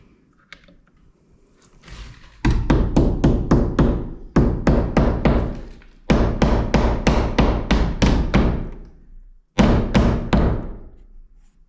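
Nails are hammered into a kitchen window frame during a DIY off-grid cabin build, in sharp rapid bursts of loud close strikes separated by short pauses, about five runs in all.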